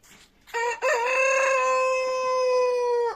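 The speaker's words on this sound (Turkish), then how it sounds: "Cemani horozumuz, mavici horozumuz, Biyantat horozumuz." A Cemani rooster crows loudly and close by, one long drawn-out call after a short clipped start, with no talking.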